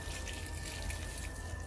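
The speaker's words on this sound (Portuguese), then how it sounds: "vou regar aqui ao redor da jabuticabeira" Water mixed with fertilizer poured from a container onto the ground around a jabuticaba tree, a steady faint trickling and splashing with a constant tone running underneath.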